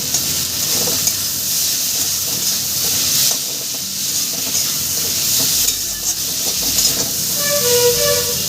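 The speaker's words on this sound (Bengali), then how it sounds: "আমি আলু আর মাছ সুন্দর করে কিন্তু একটু হালকাভাবে কষিয়ে নিচ্ছি" Small mourala fish and potatoes sauté with spices in hot oil, giving a loud, continuous sizzle mixed with stirring scrapes close by, and no talking.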